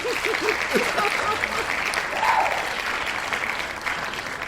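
A podcast audience breaks into a round of applause, a steady wash of clapping across the whole stretch, with a brief bit of talk at the start.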